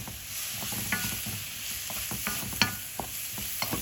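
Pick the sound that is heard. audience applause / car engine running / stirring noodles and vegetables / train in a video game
stirring noodles and vegetables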